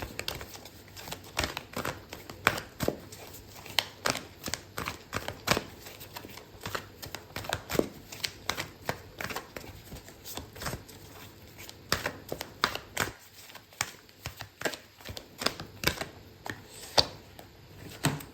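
Tarot cards are shuffled steadily by hand, a dense run of close, crisp riffling clicks and flicks that continues without a break and with no talking.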